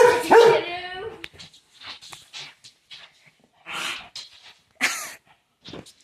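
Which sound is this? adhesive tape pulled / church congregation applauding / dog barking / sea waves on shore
dog barking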